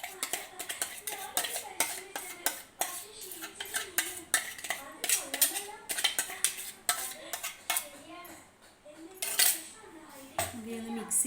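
A ground paste is mixed into rice flour in a bowl, with repeated close clinks and scrapes of a spoon against the dish in an irregular rhythm and some quiet voice underneath.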